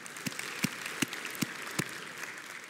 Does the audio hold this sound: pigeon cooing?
no